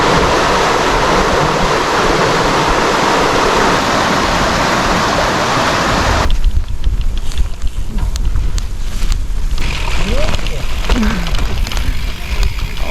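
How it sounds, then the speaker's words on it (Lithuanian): Water rushes loudly at an old water mill on the Venta river, a dense, constant roar that shifts to a thinner, more turbulent churn partway through. "Vandens malūnas."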